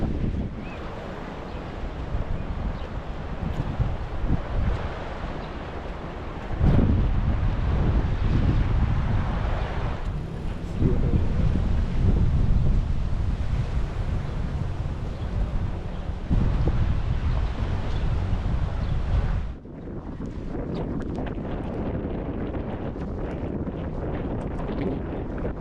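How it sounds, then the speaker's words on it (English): Strong wind by Lake Garda roars steadily into the microphone, buffeting harder in gusts, with a broad rushing noise and no voices. "Quite windy, I must say."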